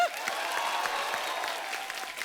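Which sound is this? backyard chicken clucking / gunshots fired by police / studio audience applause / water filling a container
studio audience applause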